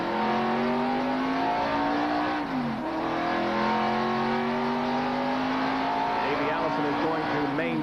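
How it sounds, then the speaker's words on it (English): A NASCAR stock car pulls out of the pit area at Talladega during the 1987 Winston 500, its engine a loud, continuous close-up roar with shifting pitch as it accelerates. "Rick Wilson getting some service on that car, pulling out of the pit area once again"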